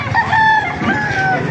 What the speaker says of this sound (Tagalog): Dami mga ilang manok